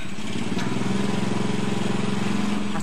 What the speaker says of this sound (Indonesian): Kantong-kantong yang berfungsi seperti tabung LPG ini ia gunakan untuk mengoperasikan genset yang menghasilkan listrik.